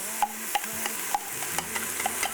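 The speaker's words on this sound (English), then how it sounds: "get the hot pan going here. Ooh, that's hot. Get all the onions in there." Onions sizzle in a hot pan, a steady close-up crackle broken by a series of sharp pops and light scraping stirs, with no voices.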